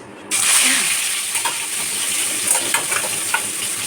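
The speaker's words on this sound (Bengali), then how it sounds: "দেখুন আমার সকাল সকাল রান্না চেপে গেছে আজকে।" Food sizzles and fries steadily in a pan on a stove in the early morning, a continuous close hiss with occasional soft stirring scrapes and no voices.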